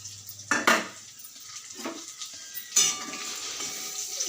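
A metal lid comes off a cooking pot with a sharp clank, followed by scattered clinks of utensils, stirring and light frying sizzle nearby, with another clatter a couple of seconds later.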